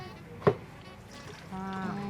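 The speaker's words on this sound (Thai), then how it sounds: "หนูก็เทน้ำปลาลงค่ะน้ำปลาเทลงหมดเลยนะคะ" A short thin trickle of fish sauce being poured into a Thai dipping sauce with sugar, a soft splash near the start followed by a gentle pour, close and quiet.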